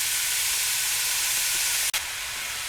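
Beef browning in a pan for canned beef and gravy gives a steady, even sizzling hiss throughout, with one brief sharp click near the end and no talking.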